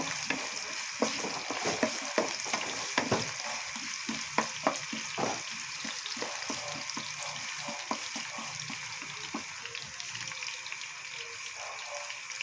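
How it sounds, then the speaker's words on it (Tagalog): Potatoes and carrots fry in hot oil for a pork rib caldereta, giving a steady close sizzle with scattered crackles and pops throughout. "magpiprito muna tayo ng ating mga patatas at saka carrots"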